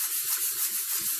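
Super fine grit sandpaper is rubbed over a wood surface to smooth it, giving a steady, close, soft scratching hiss in short back-and-forth strokes.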